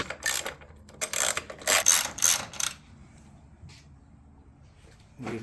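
Ratchet tightening bolts back into the top of a switch panel bracket on a Jeep Wrangler JK, a quick series of close, bursty clicking strokes for a few seconds, then quiet with faint handling noises.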